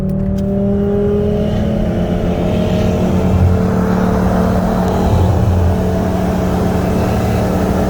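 A 2018 Mercedes C63 S AMG and a 2018 Audi RS3, both tuned, accelerate hard side by side in a second-gear roll race from 45 mph, a loud, sustained engine roar with rising pitch close to the microphone.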